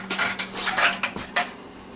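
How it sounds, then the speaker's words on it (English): A French press being handled among dishes in a kitchen, giving a quick run of sharp glassy and metallic clinks and knocks, close and alone. "I need to get my French press"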